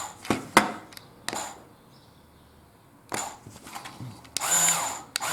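Mould King 18002 Green Hound buggy motors driving the axles, short bursts of small electric motor whir and gear clatter, several separate bursts with quiet gaps between, fairly close.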